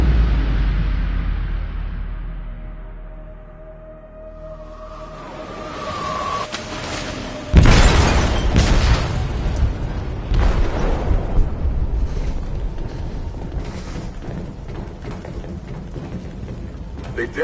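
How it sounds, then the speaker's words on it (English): An explosive detonates in a ship's hold in a video game: a heavy boom erupts after a quieter rumbling stretch, followed by sustained crashing, rumbling and debris noise that stays loud until the end. "They detonated an explosive in the hold."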